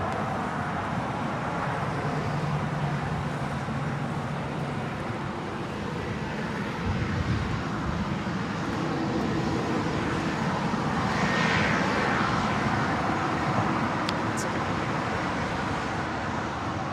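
A Lufthansa airplane at Los Angeles International Airport roars steadily through a long, broad rush of jet engine noise, swelling slightly and staying loud and continuous throughout.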